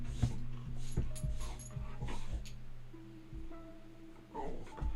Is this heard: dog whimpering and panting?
yes